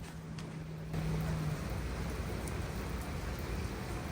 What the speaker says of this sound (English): Oh, that sweet sound of rain.